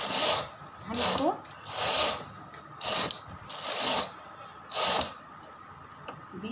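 A knitting machine carriage runs back and forth knitting plain stitches, each pass a loud rasping mechanical slide, five evenly spaced sweeps about a second apart with quieter gaps between.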